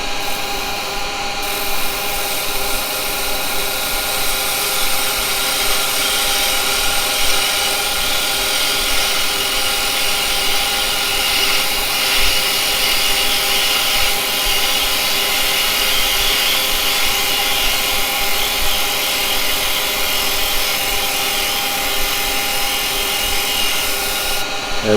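A carbide tool takes a finishing cut on yew spinning on a wood lathe, producing a steady, loud, continuous whirring hum with a rubbing scrape that barely varies across the whole stretch, with no speech.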